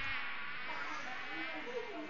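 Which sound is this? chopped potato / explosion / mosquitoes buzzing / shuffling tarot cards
mosquitoes buzzing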